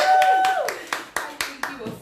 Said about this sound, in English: this is just me clapping for you